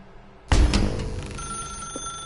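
A telephone rings in The Stanley Parable, a loud burst that starts abruptly and settles into a sustained, steady electronic tone.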